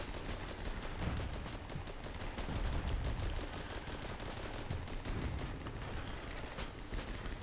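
Rapid machine-gun fire from the WWI video game Armored Battle Crew, dense continuous bursts of loud, crackling shots with heavy booms underneath, sustained with no pauses.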